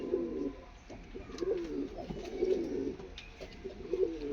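Pigeons coo nearby in a soft, repeated throaty rhythm, several low calls rolling one after another.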